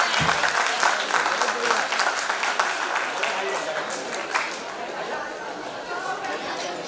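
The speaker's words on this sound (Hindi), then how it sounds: "और तालियां ऐसी बजे कि इस कार्यक्रम में जान आ जाए।" An audience at a school annual function bursts into sustained applause that starts full and close, then gradually thins and softens, with murmuring chatter mixed in underneath.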